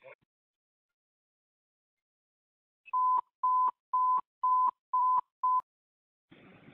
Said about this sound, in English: Command, sound the evacuation tones.